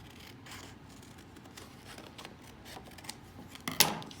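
Scissors cut through card for a Christmas card box, with quiet snips building to a sharp, loud closing snip near the end, close up and with no talking.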